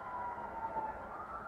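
A fire engine siren wails steadily in the distance, faint and continuous with a slight wavering pitch, under low background rumble.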